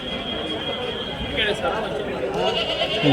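Goats bleat at the busy Kadiri livestock market, with a few close bleats rising over constant chatter and the voices of people talking nearby.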